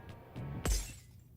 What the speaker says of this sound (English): it sounds like I shattered their skull